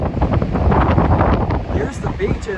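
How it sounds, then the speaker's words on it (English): Strong wind buffets the microphone at a beach with wind-driven waves, a loud continuous rumble and roar that fills the whole stretch, with a faint voice briefly under it. "As you can probably hear, it's very windy."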